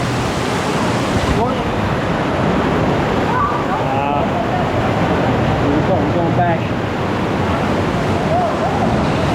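Ocean surf on the Na Pali Coast roars loud and continuous, a broad wash of breaking waves and wind close by, with people talking briefly over it.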